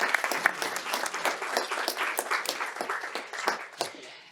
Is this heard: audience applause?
yes